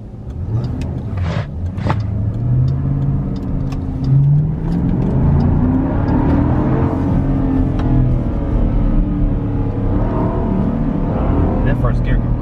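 A 2020 Jeep Cherokee Trailhawk accelerating hard in first gear, its engine note rising and falling close by under people talking excitedly throughout.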